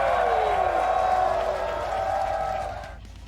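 Crowd roar from a wrestling card game playing after a vertical suplex, a loud, sustained cheer that holds steady and then drops away abruptly near the end.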